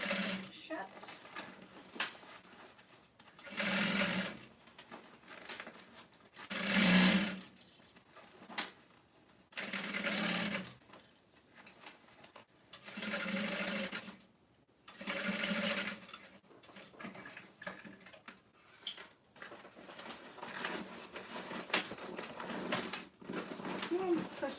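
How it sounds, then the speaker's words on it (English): A sewing machine stitches a tote bag shut in short bursts, loud and close, with pauses and someone talking between the runs. "Alright, let's sew this shut."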